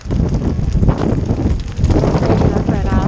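Strong tropical-storm wind buffets the microphone in a loud, steady roar with gusty surges, outdoors on stadium stairs during Tropical Storm Eta in Miami.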